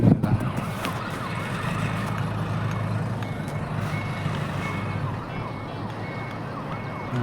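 A truck delivering goats to a Dubai cattle market: a steady engine rumble runs the whole time, with a repeated reversing beep close by.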